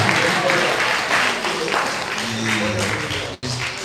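An audience at a University of Ilesa advisors workshop keeps clapping in a steady, crowded patter while someone talks over it, the applause holding for several seconds before briefly dropping out near the end.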